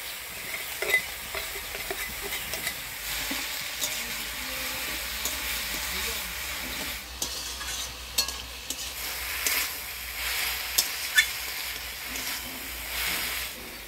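Turmeric, salt, green chillies and fried lentil nuggets (bori) go into a frying pan, giving steady sizzling with occasional stirring scrapes and small clinks, close and fairly loud, with no talk.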